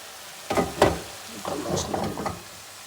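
Spices fried down with onion, tomato, ginger and garlic in a pan for chicken curry: soft background sizzle broken by a few sharp scraping stirs, then a busier patch of bubbling and stirring, all fairly close.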